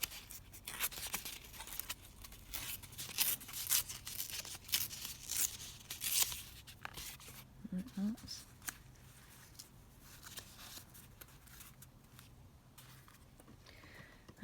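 Paper being torn and trimmed for an Edith Holden junk journal, giving a run of close, crisp tearing and rustling bursts in the first half before quieter handling noises.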